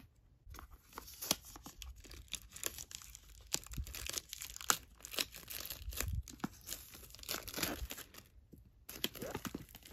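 A plastic-wrapped package holding an ATEEZ lightstick is cut and pulled open, with continuous close crinkling, tearing and crunching of plastic over about ten seconds and no talk.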